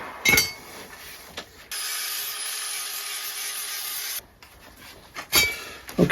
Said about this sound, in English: So, here's my flap disc.